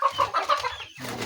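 Several chickens cluck in a repeated, rhythmic pattern, close by and fairly loud, while birds are being counted in a coop set up before new poultry arrive; a short pause is followed by softer clucking.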